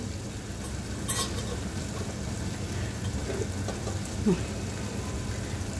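Masala simmering on a low gas flame, giving a constant dense sizzle and bubbling hiss with a few faint spoon knocks.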